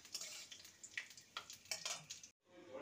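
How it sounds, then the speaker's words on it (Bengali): Whole cumin seeds and a dried red chilli fry in mustard oil as a tempering, making a faint, uneven crackle of small pops and sizzles that cuts out briefly near the end. "ফোড়নে দেব 1/2 টিস্পুন গোটা জিরে আর একটা গোটা শুকনো লঙ্কা। ফোড়নটাকে কয়েক সেকেন্ড ভেজে নেব।"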